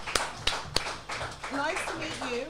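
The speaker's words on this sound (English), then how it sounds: "Round of applause for our guests." Audience applause for guests at a live event, a few sharp claps followed by a short burst of clapping under overlapping talk.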